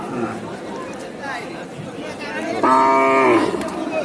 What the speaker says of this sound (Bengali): এটা কয় দাঁতের গাভীটা?